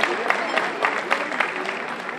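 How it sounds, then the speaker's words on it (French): Audience applause at a beach queens' gala, steady dense clapping throughout with scattered louder claps, fairly close and moderately loud, with some voices in the crowd. "Applaudissez très très très très très fort."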